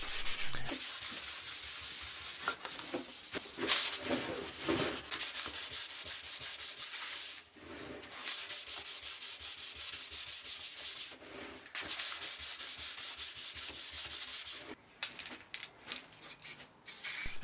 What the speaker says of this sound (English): Again, more sanding, this time in preparation for paint.